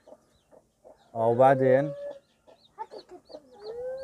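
A mother hen that has been sitting on duck and chicken eggs clucks up close in a farmyard, giving short soft clucks and one louder drawn-out call, with a person speaking briefly nearby.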